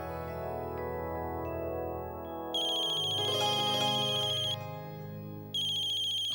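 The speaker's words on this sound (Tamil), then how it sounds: "அம்மா தான் ஃபோன் பண்றாங்க." Mobile phone ringtone for an incoming call plays a steady melodic electronic tune, loud and close, with a brighter jingling layer cutting in and out, no voices.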